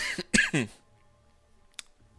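A couple of sharp, close coughs in quick succession, followed by a brief pause and one more short cough.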